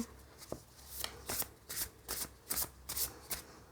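Tarot cards are gathered and shuffled close by in a quiet room, eight or nine quick riffling bursts in a steady rhythm, soft and crisp with short pauses between them.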